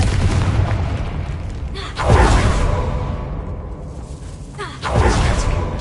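In Hogwarts Legacy, the Confringo fire spell lands as two separate whooshing booms a few seconds apart, each a sharp blast fading into a rumbling tail.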